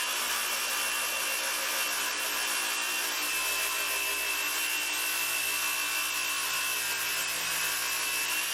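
A saw cuts through a butcher block wooden countertop with a loud, continuous, harsh grinding rasp that holds steady and close throughout, with no voices.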